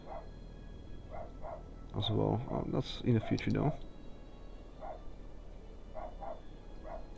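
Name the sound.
dog barking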